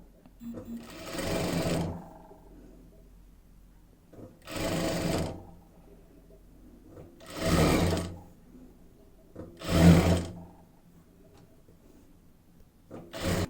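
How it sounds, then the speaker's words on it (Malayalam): Sewing machine stitching stretchy T-shirt fabric into a saree blouse: four short bursts of rapid mechanical whirring, separated by quiet pauses, with a soft voice in between. "ജസ്റ്റ് ഇതുപോലെ ഇങ്ങനെ വെച്ചിട്ട് അങ്ങോട്ട് സ്റ്റിച്ച് ചെയ്ത് പോകാം"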